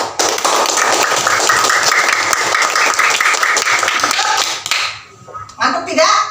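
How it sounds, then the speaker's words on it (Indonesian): A room full of students claps together in a dense, lively round of applause that lasts several seconds and then dies away, followed by a few voices. "Tepuk dulu buat kita."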